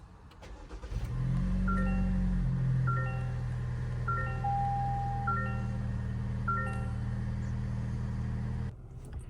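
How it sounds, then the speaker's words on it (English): A 2025 Toyota Grand Highlander SUV engine turns over via push-button ignition and catches, then idles steadily with a low rumble while soft electronic chimes beep repeatedly in the cabin. "Let's go ahead and fire this one up."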